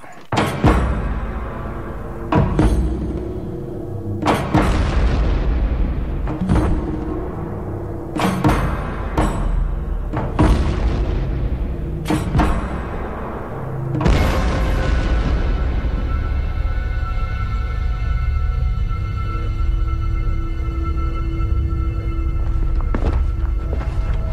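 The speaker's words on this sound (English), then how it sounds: "We just hung 1 pound charge right about here, and you can see that it blew the structure away from the point of explosion" A one-pound explosive charge set off against a test structure on a range, heard as a series of sharp, heavy thumps and booms spaced a second or two apart, followed by a longer lingering rumble and wash of noise.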